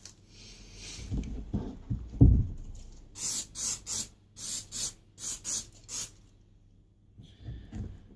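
Several short bursts of aerosol fabric protector spray hiss up close onto a replica Nike Mag shoe, roughly a dozen quick puffs in a steady rhythm, following some handling noise at the start.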